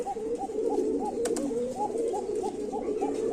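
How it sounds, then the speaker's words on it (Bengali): A pigeon offered for sale coos close by in a steady repeating rhythm, roughly two soft rolling coos per second, with a brief faint clink in the middle. "দেখেন পকে কেমন ডাকে"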